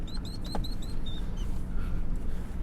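Birds call in a repeated series of short high chirps over a steady low background rumble near a waterfront with barges in Ingleside, Texas, with a few fainter calls afterward.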